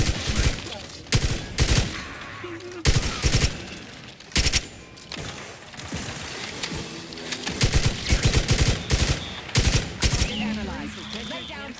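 Bursts of automatic gunfire and single shots crack out during a firefight in The Outer Worlds 2, loud and irregular, with short pauses between volleys and voices speaking in between.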